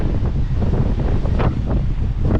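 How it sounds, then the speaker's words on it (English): Strong gusty wind buffeting the microphone at Ballyholme seaside car park, a loud continuous roar with no talk. "Very windy today. It was a windy night,"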